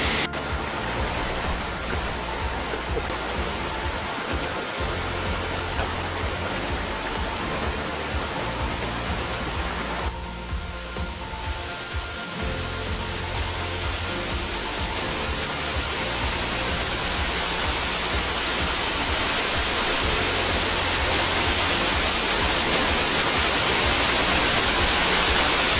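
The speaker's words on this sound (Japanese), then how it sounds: "どうだった？ 調子の滝？" A waterfall near Mount Ishizuchi in Ehime, Japan, roaring as a dense, steady rush of falling water close by, unbroken for the whole stretch with no voices.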